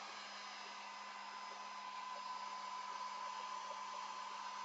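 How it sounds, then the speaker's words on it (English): Handheld hair dryer blows steadily on high without heat, drying paint on a Gelli plate during monoprinting, a continuous whooshing hiss with a faint motor whine held unbroken throughout. "The worst part about it is my hair dryer, the spool shot button, I have to hold it down the whole time."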